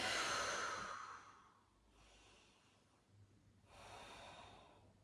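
A deep breath taken during a barre stretching exercise: a strong close inhale, a quieter pause, then another audible breath swelling near the end.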